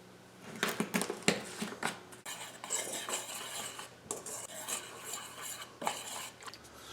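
Flour, whole wheat flour and salt stirred together in a bowl, a steady close scraping and rustling with occasional utensil clinks against the bowl, no talking.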